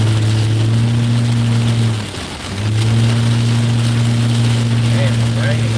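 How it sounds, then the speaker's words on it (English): Heavy rain pours onto a reinforced 4x4 Sprinter van during a storm chase. It makes a steady, dense wash over a loud droning engine hum that briefly dips midway. "Man, it's raining."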